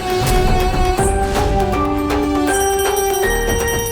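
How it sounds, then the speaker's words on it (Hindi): A bell rings steadily during a home worship ritual, its bright metallic tones ringing out loud and continuous, layered with sustained musical notes and no talking. "बाबा जी घंटी बजा रहे।"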